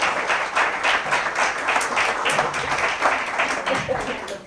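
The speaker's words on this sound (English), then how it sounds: "Let's give Carol applause while she comes up to the" An audience at a Great Women in History 2016 event applauds steadily as a woman walks to the podium. The crisp, evenly dense clapping runs at moderate volume for several seconds.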